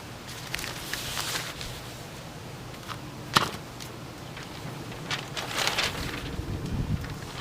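Breeze blows outdoors in soft gusts, swelling and fading across the recording with light rustling and a brief knock near the middle, moderately faint and with no talk.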